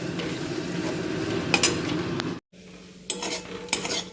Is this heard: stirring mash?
yes